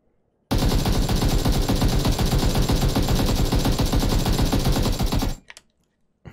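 A single long unbroken burst of rapid automatic AKM rifle fire in a video game, loud and close, lasting about five seconds before cutting off abruptly, followed by a brief clatter and then quiet.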